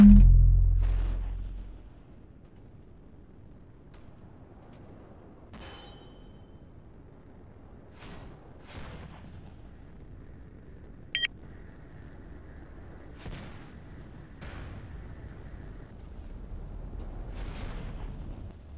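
Incoming artillery blasts and scattered gunfire in a 5v5 tank video game match on a Salar map: a loud low boom opens, then sparse sharp distant impacts and shots recur over a steady low rumble, with no talk.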